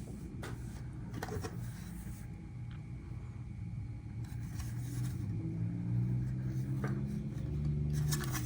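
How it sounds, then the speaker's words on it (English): Packaging of a Paris 64 Liberty Walk BMW i8 diecast car is opened up close: scattered plastic clicks and rubbing rustles over a low rumbling background hum that swells slightly in the second half. "let's open this Paris 64 Liberty Work BMW i8"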